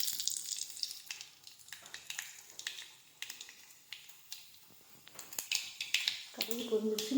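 Mustard seeds spluttering and popping in hot oil in a kadai while making tomato curry leaf chutney, a crackling sizzle with scattered pops, close and moderately loud.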